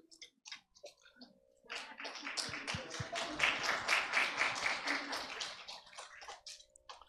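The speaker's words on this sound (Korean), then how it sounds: "우리 아이들 여러분 뜨거운 마음으로 축복의 박수 부탁해" A church congregation applauds children at a Christmas service, a dense burst of clapping that swells after a few scattered claps and fades toward the end, moderately distant.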